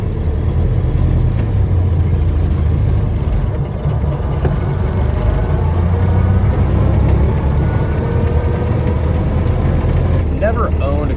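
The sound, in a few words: 1931 Ford Model A A400 cabriolet engine while driving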